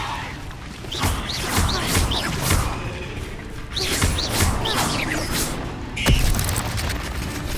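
A Levioso spell cast in Hogwarts Legacy, with swishing magical whooshes and crashing impacts layered over busy game effects and voices, a sharp burst standing out near the end.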